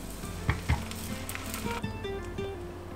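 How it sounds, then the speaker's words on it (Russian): Pancake batter sizzles and crackles in a hot pan over low heat, a soft continuous frying hiss with a few brief clinks of utensils. "Жарим на небольшом огне."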